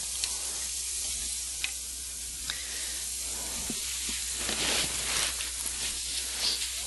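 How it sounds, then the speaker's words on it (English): Beef stew with bouillon and vegetables being stirred in a pot, a quiet close hiss of simmering with soft scraping and clicking from the spoon, a few gentle louder swishes toward the end. "And I'll put the last layer of beef right on top, and give it another good stir."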